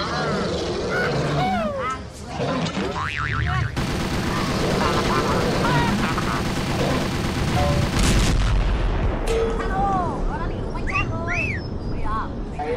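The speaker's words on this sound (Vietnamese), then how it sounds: "Cùng khẩu súng này đã tiêu diệt được con quái vật đấy rồi đấy bạn Huyền ạ." Rapid bursts of gunfire crackle and boom amid busy game-like sound effects, with dense bangs through the middle and chirpy electronic tones around them.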